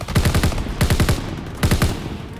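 Machine gun fire from Call of Duty WWII comes in three rapid bursts of a few rounds each, loud, close and punchy, separated by brief pauses.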